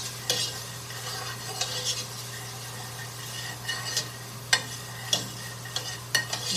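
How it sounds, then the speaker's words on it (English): Fresh garlic sautéing in a soup pot for a kale and spinach soup makes a soft, steady sizzle, broken by scattered clinks and scrapes of a utensil stirring against the pot. "we're going to saute that in there as well"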